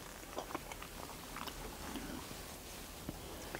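Someone chewing a piece of roti with palak paneer, soft close mouth sounds with faint bites and wet chewing over a steady background hiss, quiet and without speech.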